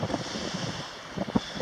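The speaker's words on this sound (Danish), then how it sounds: "der blæser den skønneste vind" Wind blows across a remote ocean atoll, a gusty, rushing roar buffeting close to the microphone with surf-like washes and no voices.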